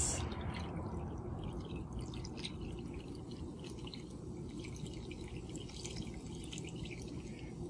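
Kvass is poured into a bowl of okroshka, a steady continuous splashing pour with faint fizzing and dripping, close and even throughout.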